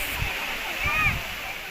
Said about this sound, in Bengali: এই উপর থেকে ঝর্ণাটা